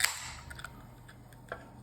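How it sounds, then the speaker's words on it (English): A can of regular Mountain Dew is popped open with a sharp tab crack at the start, followed by faint fizzing and a few small clicks in a quiet room. "We're gonna pop a top,"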